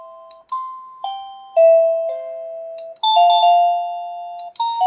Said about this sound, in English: if you press it, you can cycle through the tunes